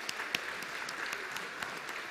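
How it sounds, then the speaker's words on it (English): A church congregation in a full sanctuary claps briefly, a soft, even patter of applause with a few sharper claps, heard from some distance. "let's give a round of applause to all of you who are bold enough to show up this morning"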